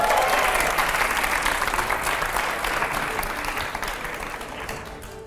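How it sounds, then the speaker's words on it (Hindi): Loud audience applause from a studio crowd at a televised interview event, a thick, steady roar of clapping that gradually fades toward the end. "जोरदार तालियां"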